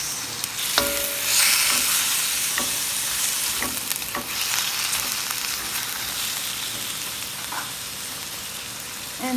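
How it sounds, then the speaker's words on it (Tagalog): Chicken being stirred in a frying pan with seasonings for a black soy sauce dish, steady sizzling broken by a few scraping stirs of the utensil, close and moderately loud with no talking. "Just stir it to mix it with the ingredients guys."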